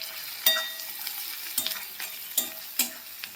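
Onion, tomato and turmeric fry in a pan while a spoon stirs them, giving a steady soft sizzle broken by four sharp scraping strokes of the spoon against the pan.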